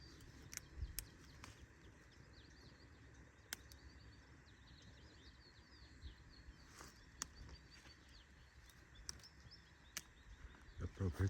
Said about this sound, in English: Only listen birds.